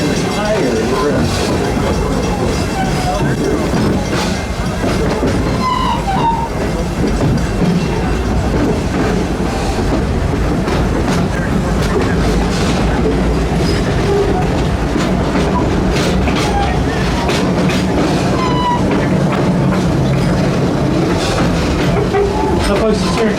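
The Busch Gardens steam train rolls along its rails through the Serengeti area, with loud, continuous clickety-clack of the wheels and rumbling cars throughout and a voice faintly under the noise.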